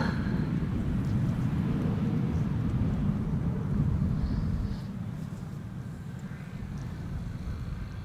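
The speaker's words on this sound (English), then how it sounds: "It is an A330-300 from KLM flight 765, arriving from Bonaire." A KLM Airbus A330-300 arriving at Amsterdam Schiphol makes a low, broad roar that holds steady, then eases slightly in the second half as it passes at a moderate distance.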